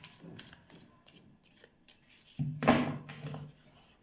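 Playing cards are shuffled by hand during a tarot-style reading, starting with faint soft riffles and ending in a louder, close riffle-and-bridge near the end.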